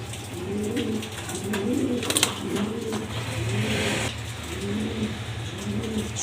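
A black Danish male pigeon coos in a steady repeating rhythm, six or so soft low phrases, over a constant low hum and faint traffic.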